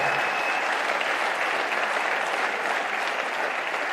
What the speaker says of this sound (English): So big round of applause for Paul on that.